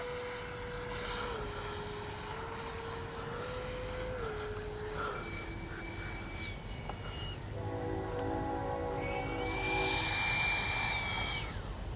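A Freewing 80mm MiG-21 RC jet comes in to land with its flaps down, its electric ducted fan whining at a high pitch that drops in steps as the throttle eases, then swells again near the end.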